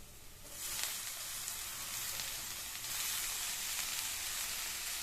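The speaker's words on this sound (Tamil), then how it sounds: "பாவக்காயை சேர்த்துட்டு ஹை ஃப்ளேம்லயே வச்சு ஒரு 2-3 நிமிஷத்துக்கு இந்த மாதிரி வதக்கிட்டே இருங்க" Sliced bitter gourd sautéing in a pan over a high flame, a steady close sizzle that swells after the first half second and holds loud and even, with no talking.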